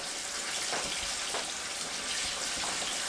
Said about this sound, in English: So you hear how it's frying, guys, in that water?